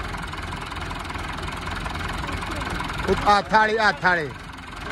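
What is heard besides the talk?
engine running after being started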